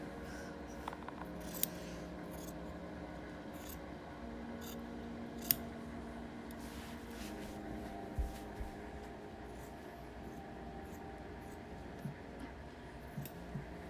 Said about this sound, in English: Maybe it's just the way the scissors are shaped.